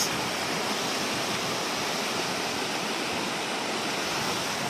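Steady, loud roar of rushing water from a waterfall, a dense unbroken hiss filling the whole clip with no voices.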